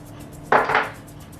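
A knife slices through a small cake, giving a single short, crisp cut with a quick second scrape, close and clear over a quiet room.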